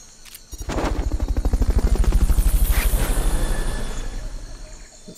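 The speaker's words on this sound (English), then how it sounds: "Fulton recovery subject confirmed onboard helicopter" A video game helicopter's rotor thumps rapidly and loudly, swelling in and holding a steady chopping rhythm before fading slightly, with no voices.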